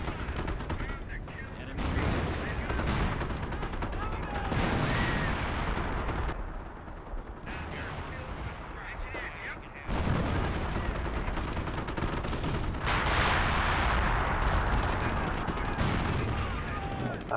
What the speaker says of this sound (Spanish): Vamos a seguir arrojando artillería.